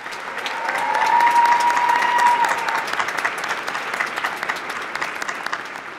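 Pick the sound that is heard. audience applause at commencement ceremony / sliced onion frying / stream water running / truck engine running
audience applause at commencement ceremony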